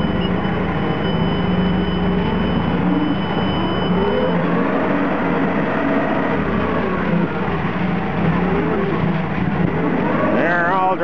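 Car driving around Sudbury, engine droning and rising as it accelerates, heard from inside with road noise and a voice speaking briefly near the end.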